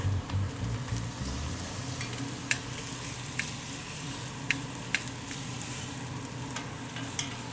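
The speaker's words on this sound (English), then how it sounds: "This is super hot, it's gonna sear pretty quickly." A Denver strip steak sears in a smoking-hot pan, a steady close sizzle with a few sharp ticks and pops scattered through it, no talking.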